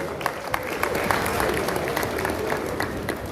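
An audience applauds for the Edo State Director of State Services at a launch event in Benin City, steady clapping filling the room for a few seconds with a faint murmur of voices underneath.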